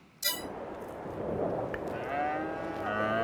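Cows mooing inside a barn on a Polish farm in Farming Simulator 22: a sharp knock opens, then steady barn ambience rises under drawn-out, tonal moos that swell toward the end.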